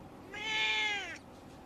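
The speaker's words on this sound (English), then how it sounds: "basically the cat learns to meow" A single house cat gives one clear, drawn-out meow at close range against a quiet background.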